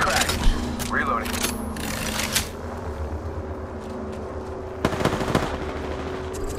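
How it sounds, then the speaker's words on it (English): Gunfire in Apex Legends, scattered bursts of sharp shots, some close and some farther off, over steady game ambience while a voice talks through it. "Darn, shots fired! They're hitting me!"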